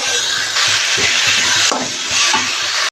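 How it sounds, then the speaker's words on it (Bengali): Jackfruit and potato curry stirred in a frying pan with ginger, garlic and chilli paste, a steady loud sizzle with repeated scraping strokes of the spoon throughout. "ভালো করে একটু নেড়ে নেবো"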